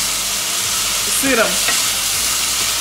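Chicken fillet sizzling steadily in a frying pan, with a brief stir or scrape of the pan partway through; a short spoken word cuts in over the frying.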